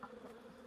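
Honeybees buzz around an opened hive during an inspection, the foragers gathering in the bottom box; a brief, faint, steady hum with no voices.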